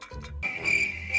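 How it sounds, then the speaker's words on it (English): A crickets chirping sound effect gives a short, clear, high trill that rises in after a brief pause and carries on alone. "crickets."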